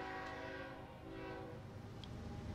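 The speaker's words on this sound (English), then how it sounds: "Is that a train coming?" A train approaches with a horn in the video game Paper Lily, heard as a faint tonal rumble of rail noise with a short high note near the end.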